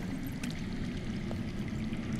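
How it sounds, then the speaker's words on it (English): Water flowing underground in the Game of Thrones video game, a steady faint rushing and trickling stream, continuous and distant-sounding. "I hear water. From underground."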